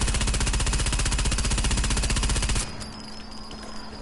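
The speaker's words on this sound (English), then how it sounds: "I'll fire the 47 rounds that are in the second mag without controlling recoil." An OVP M1918 submachine gun in the Sniper Elite 4 video game emptying a full magazine in one rapid, evenly paced loud burst lasting about two and a half seconds, then cutting off to quiet ringing and mechanical tail.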